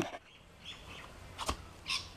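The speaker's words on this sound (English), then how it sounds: "Sorry about all the birds." Birds chirp outdoors near a garage where an Infiniti G35 rear bumper is being painted, a few short scattered tweets, moderately close with faint background noise.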